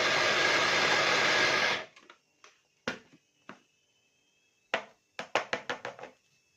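An electric blender chops onions with two or three peppers, roaring loudly for about two seconds before stopping, followed by a scatter of sharp knocks and taps as it is handled.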